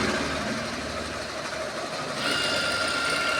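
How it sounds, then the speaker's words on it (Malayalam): A computer embroidery machine runs at steady speed, giving a continuous whirring, rattling drone with fast mechanical chatter; the tone brightens and grows slightly louder partway through, with no talking. "സൗണ്ട് കേൾക്കുന്ന എൻ്റെ കമ്പ്യൂട്ടർ എംബ്രോയ്ഡറി മെഷീൻ വർക്കായിക്കൊണ്ടിരിക്കുകയാണ്"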